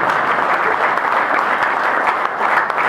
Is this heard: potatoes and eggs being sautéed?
no